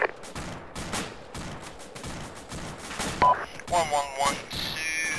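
Gunfire from a military firefight in ArmA II, with dense bursts of shots through the first half, a few sharper cracks later, and radio-style voices talking over the action.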